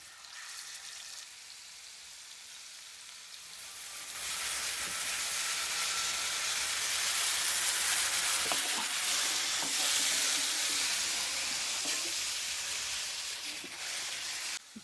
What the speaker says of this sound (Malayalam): നമ്മൾ സ്പെഷ്യൽ മസാല ചേർത്ത് മീൻ വറുക്കാൻ വെച്ചു